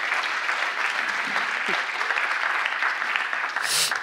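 Steady applause from an audience at a talk on a graffiti career, a dense wash of clapping running the full length at even loudness, with a faint voice or two underneath.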